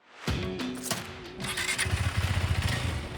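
A KTM RC390 motorcycle runs on a test track, engine thumping and rising in pitch as it accelerates, loud and close with a rapid pulsing note building toward the end.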